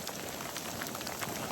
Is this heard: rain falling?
yes